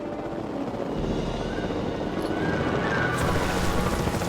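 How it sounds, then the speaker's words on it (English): A helicopter in the video game Jurassic World Evolution 2: rotor chop and engine drone rumble steadily at moderate distance, growing slightly louder over a few seconds. "We have a helicopter standing by"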